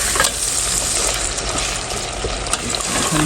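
Karela gosht fries while green chillies and onions are mixed in, a loud continuous sizzle layered with scraping and stirring clatter from the spoon against the pot, plus a few sharp knocks.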